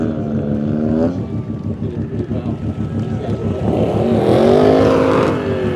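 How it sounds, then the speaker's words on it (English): Rally car engine roaring through a tyre burnout on a speedway during a rally stage, loud and steady with rising revs, and a commentator talking over it. "Mike Hurst putting on a show, giving us a little burnout action there"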